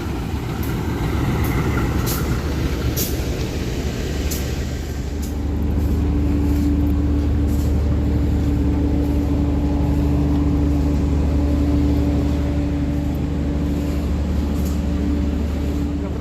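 Diesel locomotive of the Surabaya-Cepu local economy train running, a loud low engine rumble and steady hum that rises after a few seconds, with faint clicks and rattles on top.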